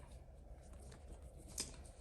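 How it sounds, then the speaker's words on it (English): Soft, quick riffling of a deck of cards being shuffled close by, quiet and steady, with a brief sharper snap near the end. "I might shuffle up the deck a little bit."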